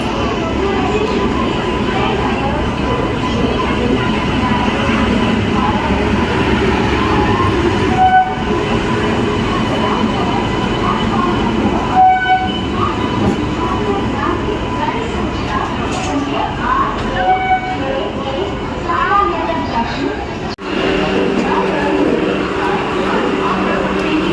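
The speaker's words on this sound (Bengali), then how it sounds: "এই ট্রেনটা পুনে থেকে আসছে" A loud train arriving from Pune rumbles past nearby at Jamshedpur station with clattering wheels and a horn sounding, while voices carry faintly beneath the noise.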